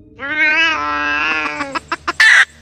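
A black cat gives one drawn-out, wailing meow followed by a few short clicks and a brief harsh burst, close and loud with no other sound.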